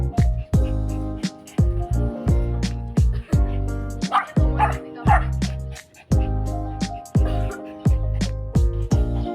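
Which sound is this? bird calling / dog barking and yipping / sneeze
dog barking and yipping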